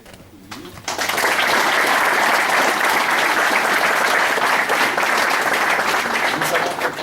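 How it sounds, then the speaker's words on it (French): An audience applauding at a fifth-dan martial arts grade ceremony, sustained dense clapping that starts abruptly after a brief quieter moment and keeps going, with a voice speaking beneath it. "Je vais vous demander d'applaudir."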